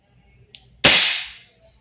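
An Umarex HK416D Gen 3 airsoft gas blowback rifle fires one loud, sharp shot that rings out and fades over about half a second, after a faint click just before it.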